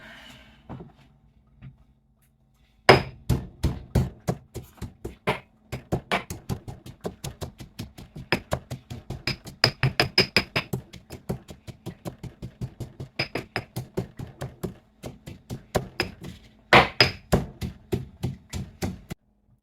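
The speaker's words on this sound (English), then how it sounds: "I've just stuck all the garlic and ginger in the pestle and mortar together" Garlic and ginger pounded in a pestle and mortar, sharp rhythmic thuds in quick runs with brief pauses between, close and loud, after a short quiet start.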